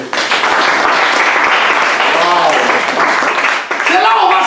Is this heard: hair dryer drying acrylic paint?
no